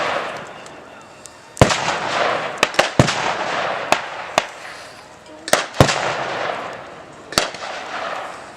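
Heavy WWII-era artillery fire pounding German positions at the Falaise Gap: about eight sharp, loud booms at irregular intervals over a continuous rumbling background of distant bombardment.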